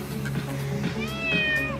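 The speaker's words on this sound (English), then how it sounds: "my cat's a little excited" An excited house cat meows once, clearly and close by, in a rising drawn-out cry over a steady background hum.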